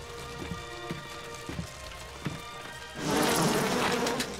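Bees buzz in the video game Bioshock, a faint droning hum with soft ticking clicks that swells into a louder, denser buzzing swarm toward the end.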